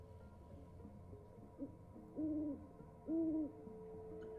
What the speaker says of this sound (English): Suspicious owl.